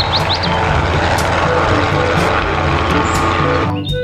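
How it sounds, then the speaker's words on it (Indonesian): A toy helicopter's motor whirs steadily and loudly up close, then cuts off abruptly near the end. "Yang ini ada helikopter."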